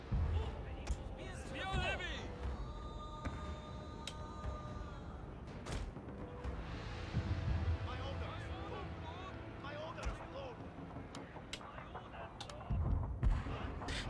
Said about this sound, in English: Oh, you actually started firing.